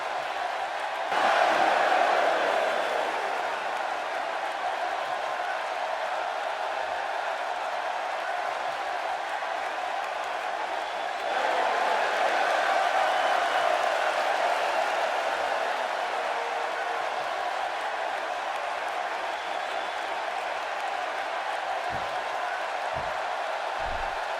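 Arena crowd in the wrestling video game WWE 2K16 keeps up a steady, loud roar of cheers and mixed reaction throughout, swelling twice, with a few sharp thumps near the end.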